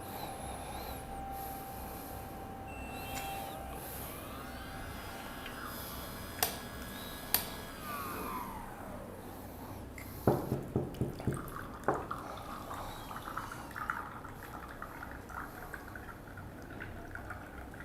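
An espresso machine runs its cleaning cycle: a rising electronic whine, then sharp clicks and a run of rapid drips and water ticks, fairly close and alone.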